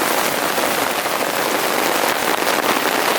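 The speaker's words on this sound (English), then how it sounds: "So it's been raining pretty hard for quite a while now." Heavy rain pours onto a French F1 canvas military tent at a marshland wild camp, a dense, loud, unbroken hiss of drumming drops close overhead.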